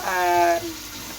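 Water is poured into a mutton karahi during restaurant-style Karachi street food cooking: a short gush with a rising tone lasts about half a second, then fades into a softer, hissing wash.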